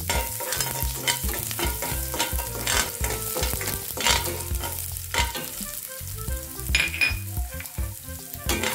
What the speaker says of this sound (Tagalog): Una ay gigisa tayo ng bawang.